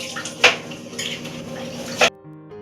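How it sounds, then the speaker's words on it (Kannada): Fish being cleaned in a home kitchen, with wet scraping and handling sounds and two sharp clinks of metal against a dish before everything stops. "ನೋಡಿ ನಮ್ಮ ಅಮ್ಮ ಫಿಶ್ ಕ್ಲೀನ್ ಮಾಡ್ತಾ ಇದ್ದವ್ರೆ."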